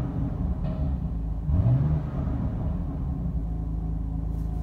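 A BMW M4 Competition coupe with the full M Performance kit idles with its exhaust valves shut in efficient mode, giving a steady, close, low rumble with a brief swell near the start.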